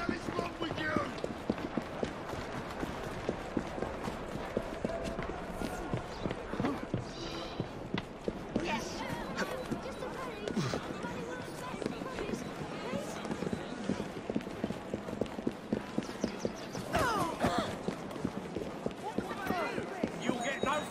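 Horse hooves clip-clop steadily in the Assassin's Creed Syndicate video game, a continuous rapid trotting rhythm heard close and clear throughout, with game ambience and occasional voices underneath.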